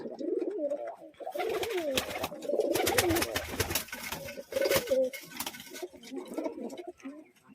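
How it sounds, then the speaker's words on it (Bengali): Domestic pigeons, high-flying Madras and Rampuri breeds, coo repeatedly in a rooftop loft in Murshidabad, with layered overlapping calls close by and some faint human voices in the background. "এই যে ফ্রেন্স এখানেও কিছু পায়রা আছে উপরে"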